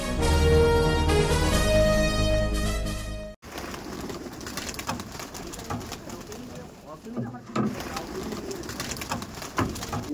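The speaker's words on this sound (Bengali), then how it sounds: "দেখুন আন্ধ্রা পায়রার ভিডিও করছি" Andhra pigeons coo in a loft amid voices and general bustle, after a few seconds of loud music at the start.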